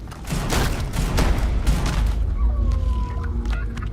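Gunfire from a gun in the sci-fi game Starfield: a loud, rapid run of heavy booming shots for the first couple of seconds, then a lingering rumble with a faint ringing tail.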